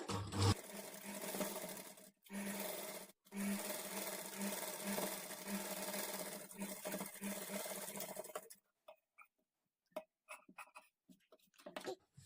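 A sewing machine stitches a princess-cut blouse in steady whirring bursts, pausing briefly twice, then stopping, leaving scattered small handling clicks and rustles of fabric near the microphone.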